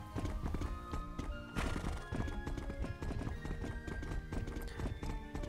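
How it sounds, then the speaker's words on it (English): Horse hooves from a horse-riding video game clip-clop in a steady walking rhythm, with a neigh mixed in, all fairly quiet. "I hope the horse is following me."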